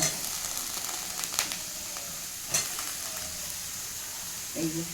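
Potatoes hit a hot frying pan in a home kitchen and set off a steady, close hiss of sizzling oil that runs throughout, with a few louder crackles and a brief stir near the end.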